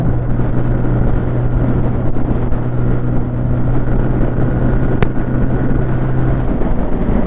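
A 2024 TVS Apache RTR 180 2V motorcycle engine drones steadily while riding, with a loud, constant tone under heavy wind rush.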